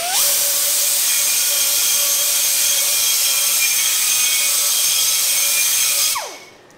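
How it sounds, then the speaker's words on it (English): A die grinder cleans out the inside of a steel exhaust header pipe for a 302 Cleveland engine in a race car. A loud, steady high-pitched whine holds for about six seconds, then spins down, close up. "Die grinder, clean up the inside of your pipe before you wipe them on."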